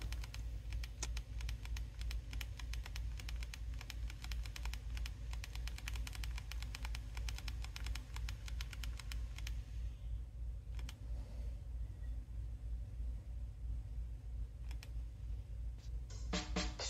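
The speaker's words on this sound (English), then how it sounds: "me typing on the Storm 2" Rapid, light tapping and clicking, close by, of fingers typing on a BlackBerry Storm 2 touchscreen phone; it continues steadily, pauses, and then resumes briefly at the end.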